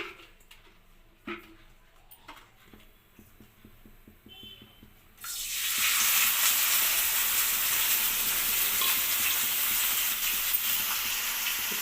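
Tomatoes tipped into a hot pan for gongura tomato chutney set off a sudden loud, steady hiss and sizzle partway through, after a quieter stretch of light kitchen clatter and soft frying.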